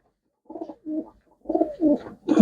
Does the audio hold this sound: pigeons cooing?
yes